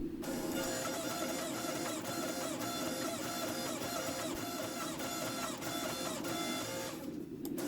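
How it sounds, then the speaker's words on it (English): A hydraulic press forge-welds a hot ball bearing Damascus billet, giving a steady, loud mechanical drone with rapid rhythmic clatter that runs unbroken until it drops off near the end. "I'm going to start pressing it and forge welding it together"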